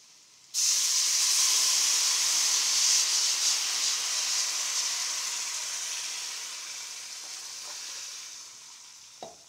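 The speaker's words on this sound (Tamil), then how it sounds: "நல்லா கொதிக்க ஆரம்பிச்சிருச்சு" A steady, bright sizzling hiss starts abruptly and continues, slowly easing off, as tamarind liquid bubbles hard in a hot pan.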